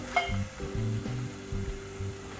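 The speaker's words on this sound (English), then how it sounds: "now I'll fry this masala well for good 2 to 3 minutes on low flame" Masala for a Goan ambot-tik shark fish curry fries gently on a low flame, a soft steady sizzle with faint stirring scrapes and a low background hum.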